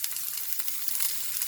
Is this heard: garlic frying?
yes